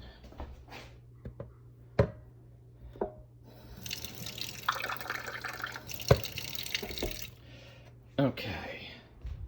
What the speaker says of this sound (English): add a bit more water to this